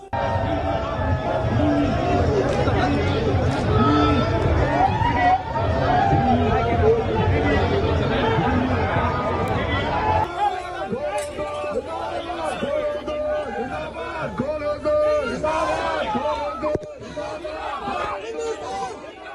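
Dense crowd of protesters facing off outside a gurdwara in Brampton, Canada, a loud continuous roar of shouting and chanting voices, heavier in the first half and then a slightly thinner babble of overlapping cries.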